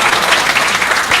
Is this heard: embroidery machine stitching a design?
no